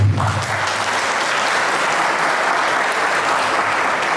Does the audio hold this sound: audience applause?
yes